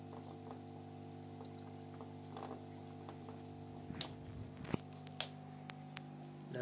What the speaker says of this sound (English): That air pump's a little noisy.